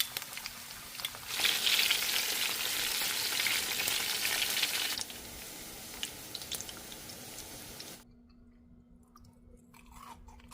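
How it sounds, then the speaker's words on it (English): Thin crackers fry in a pan with a bright, crackling sizzle that surges loud early, then eases to a softer steady fry before fading into quiet with a few scattered pops. "you're just gonna fry these up until they are cooked through"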